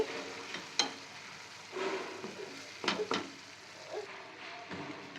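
Chili and coriander powder are stirred into a peanut curry in a pan, giving a soft sizzle with a few scraping stir strokes and light utensil knocks, fairly quiet.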